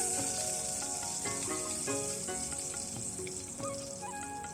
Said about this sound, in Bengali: প্রথমে একটু কালো জিরে আর তারপরে ফোড়নে হিং দিয়ে দেব